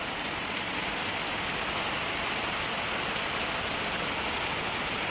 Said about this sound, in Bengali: বাইরে হচ্ছে প্রবল বৃষ্টি দেখো পুরো মুসুলধারে বৃষ্টি হচ্ছে